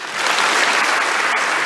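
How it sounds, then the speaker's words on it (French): Sustained applause in the French Parliament congress honouring Simone Veil, a dense, loud roar of many hands clapping steadily throughout with no break. "Que la force de vos applaudissements pour son combat et pour sa cause tonne plus fort encore que ces insultes"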